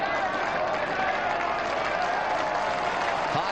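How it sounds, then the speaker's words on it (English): A modest football crowd applauds steadily as a substituted player leaves the pitch, the clapping and crowd noise forming a continuous wash throughout with a commentator talking over it. "has done a superb job and getting an ovation as he comes off"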